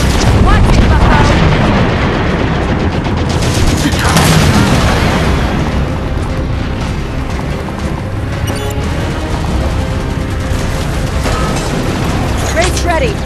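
Loud, dense battle noise from Halo 5 Guardians, with sustained gunfire and booming explosions running throughout, overlaid by character voices shouting combat chatter.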